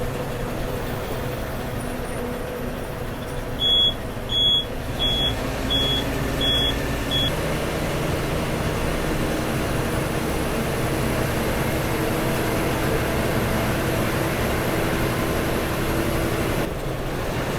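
A non-AC seater and sleeper bus runs steadily with a smooth, low engine drone throughout, with a few short electronic beeps early on.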